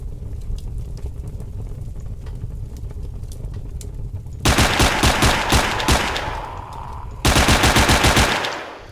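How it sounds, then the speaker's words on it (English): Rapid automatic gunfire in a zombie shooter video game comes in two loud, sustained bursts over a murky low rumble of background game ambience. "the shooting is obnoxiously loud as well"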